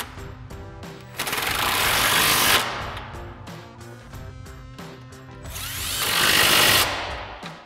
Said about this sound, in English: we'll grab our 16 mil socket extension on our impact and tighten these down